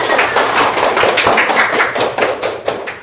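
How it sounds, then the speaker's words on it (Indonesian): A room full of people claps hands together, a dense rapid patter of close, loud claps that keeps going steadily for a few seconds, then thins out slightly toward the end. "iya, tepuk tangan"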